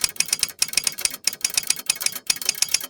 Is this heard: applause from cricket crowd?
no